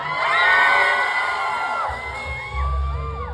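A live concert crowd cheers and shrieks for the singer, a loud burst of excited whoops and high-pitched yells that swells early, dips briefly, then rises again.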